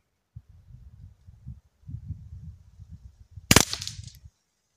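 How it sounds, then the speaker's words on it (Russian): Small-caliber rifle firing subsonic rounds: one sharp, loud crack stands out nearby against low background rumble and handling noise, with a quick echoing tail. "Серьезно говорю, очередь была, 2 выстрела."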